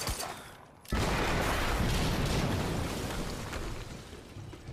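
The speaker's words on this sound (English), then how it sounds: "we just heard an explosion near the harvesting perimeter." A loud video game explosion in Quantum Break erupts after a short quiet, followed by a sustained roaring, crackling rumble that slowly fades over several seconds.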